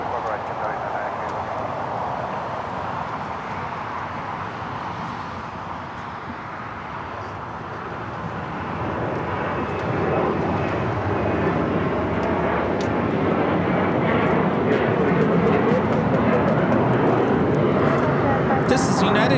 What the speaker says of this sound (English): This is United Airlines 2724 taking off to Denver on the 737-900ER